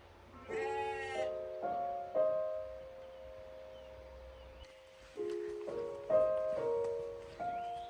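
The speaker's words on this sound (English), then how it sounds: "All I can hear are the sounds of sheep bleating" Sheep bleat out in the Lake District countryside, several wavering calls in two clusters separated by a short pause, fairly close and clear over a quiet background.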